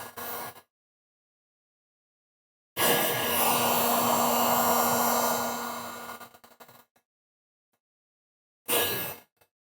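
Heat gun blowing hot air to warm SMT02 Burnt Maroon vinyl wrap on a car door: a steady, loud blowing roar of about four seconds that tails off, with brief bursts at the start and end.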